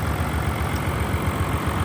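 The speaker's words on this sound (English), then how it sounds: "I guess you could call it like a deep thud to the notes of the engine." Audi S4 3.0 TDI V6 diesel engine idling, a steady deep low rumble with a continuous throbbing pulse, heard close and alone.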